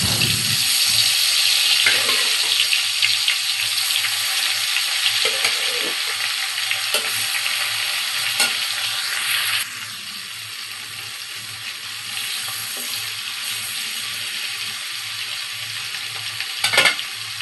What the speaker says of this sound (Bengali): তো কই মাছগুলো আগে ভেজে নিব।